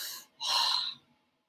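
A voice imitates a monster's heavy panting, with two breathy exhalations: a short one, a pause, then a longer, louder huff that fades out.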